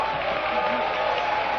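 Studio audience applause during a televised Brazilian religious debate, a steady dense wash of clapping held at even loudness through the whole short stretch.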